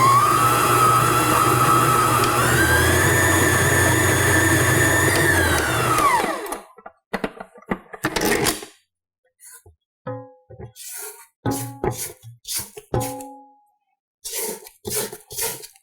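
A Kichot 8.5-quart tilt-head stand mixer rated at 800 watts whirs loudly and steadily, its motor pitch rising then winding down to stop, followed by scattered clinks and scraping sounds of a bowl.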